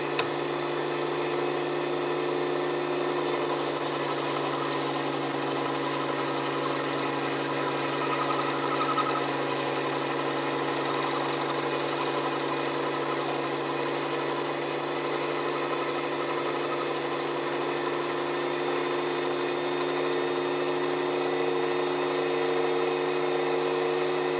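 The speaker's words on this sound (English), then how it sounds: "Start the machine. Engage the power tool." A steady mechanical whir and hum of a lathe fitted with a PeweTools Multifix toolholder and power tool runs continuously without pause, with a constant drone and high-pitched buzz.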